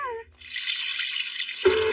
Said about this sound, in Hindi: देखिए हमारा शीरो नल से पानी पी रहा है